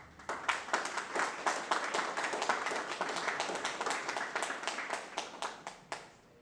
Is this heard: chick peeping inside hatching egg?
no